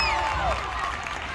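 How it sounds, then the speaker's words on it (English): A crowd at a pony club display at the Royal Highland Show cheers and claps in a brief, dense burst, with a voice over a loudspeaker mixed in. "Get him a cheer, well done, Robbie."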